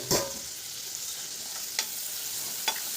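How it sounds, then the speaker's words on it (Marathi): A spoon stirs a potato filling mixture in a pan, with a soft sizzle of frying underneath and three sharp scraping knocks spread over a few seconds. No one speaks. "हे अशा पद्धतीने पूर्ण मिक्स करून घ्यायचं हे सर्व मिश्रण."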